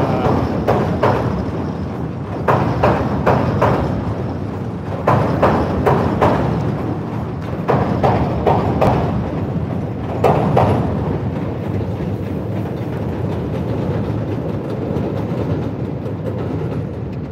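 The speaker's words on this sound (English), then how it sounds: "Yeah, that big train makes a lot of noise." An elevated L train passes over in Chicago, heavy repeated banging thuds from the wheels and track joints in bursts over a continuous loud rumble, fairly near and long-lasting.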